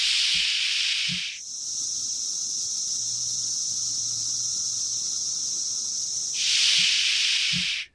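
A constant high shushing hiss of Magicicada cassini cicadas fills the air, easing slightly in the middle as a thinner whine holds, then swelling again before stopping.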